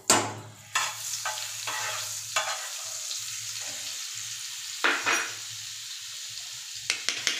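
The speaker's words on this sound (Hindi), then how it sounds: "यहाँ पे मैंने पैन गर्म करने रखा है। इसमें हमें डालना है बटर" Butter sizzling in a hot pan on a gas stove, a low steady hiss broken by sharper bursts of crackle and scraping at irregular intervals.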